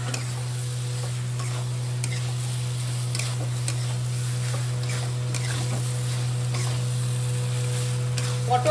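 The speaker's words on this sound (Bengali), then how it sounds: "পটলের সাথে একটু কষাবো।" Pointed gourd and prawns sautéing in a pan, giving a soft, steady sizzle with light stirring scrapes and a few faint ticks throughout, under a constant low hum.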